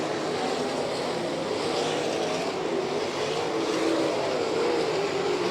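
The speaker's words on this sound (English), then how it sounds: "Wilson has lost a few car lengths to Blaney." Sprint cars in an All Star Circuit of Champions race at Lima speedway in Ohio produce a continuous, fairly distant engine roar, with a gently rising and falling pitch as the pack circles the dirt oval.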